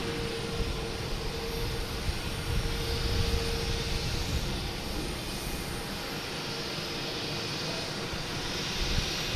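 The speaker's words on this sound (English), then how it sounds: "Alaska Airlines coming in from San Diego" An Alaska Airlines jet arriving at Boston Logan from San Diego, a steady jet engine roar with a faint high whine, sustained and fairly distant, with no talking.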